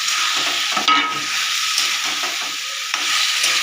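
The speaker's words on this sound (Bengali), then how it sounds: "এবার আলুটা দিয়ে দিই, ভেজে সেদ্ধ করে রেখে দিচ্ছিলাম।" Boiled and fried potato pieces go into a sizzling pan for a banana-flower dish and are stirred, giving loud steady frying with repeated scraping and clacking strokes of a spatula.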